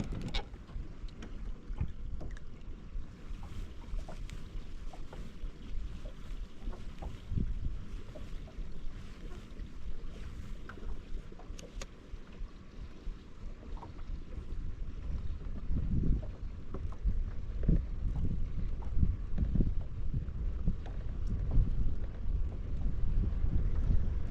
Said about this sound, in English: with the wind blowing the way it is right now